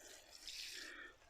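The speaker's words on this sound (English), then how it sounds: "So now I've added some water." Water trickles and splashes briefly onto a potted plant, a faint, close, continuous pour lasting only a moment.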